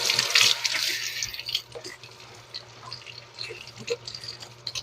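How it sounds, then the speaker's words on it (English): Tap water splashes over the top of a sweet corn can held under a kitchen faucet, a loud burst of running water at first that then breaks into softer uneven splashes and drips, close by, with no talking. "A can of sweet corn, and I'm going to rinse the top off."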